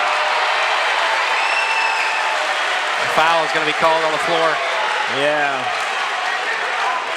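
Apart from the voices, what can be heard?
basketball crowd reacting to a foul call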